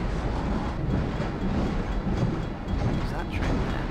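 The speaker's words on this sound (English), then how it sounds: "Oh, it's a train." Train passing in Garry's Mod, a dense continuous rumble and rattle of rolling wagons heard throughout, loud and close with faint clicking.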